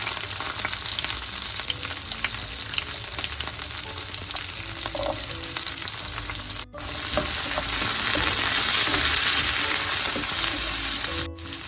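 Shallots with cumin and fenugreek crackle in hot oil in a pan while cooking a squid curry, a continuous close sizzle with occasional stirring clinks and two brief dropouts.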